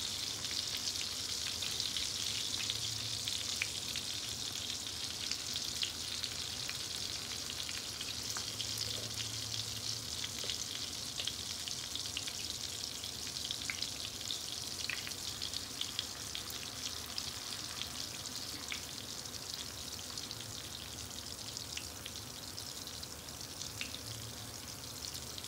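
Potato pancakes (Kartoffelpuffer, Reibekuchen) frying in a mix of oil and a little butter, a steady dense crackling sizzle throughout, close and even, with no talk.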